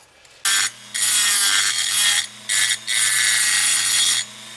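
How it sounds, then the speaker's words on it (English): A carbide burr grinds into a cracked bronze dinosaur statue, giving loud, close, high-pitched grinding in four or five bursts of varying length separated by short pauses. "Let's try this carbide burr."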